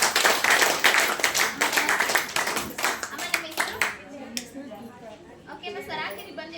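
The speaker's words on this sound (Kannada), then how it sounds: "ನಾವು ಮೆಜೋರಾಗಿ ಚಪ್ಪಾಳೆ" A group applauds at a Ceracare knee and back pain treatment gathering in Davanagere: dense, fast clapping from many hands for about four seconds, then thinning into scattered claps as voices take over.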